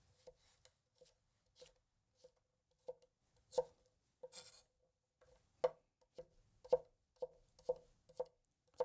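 A Meiji Kramer kitchen knife chopping food on a board, a string of sharp distinct knocks, sparse at first then quicker and closer together, with a brief rasping scrape midway; no talk.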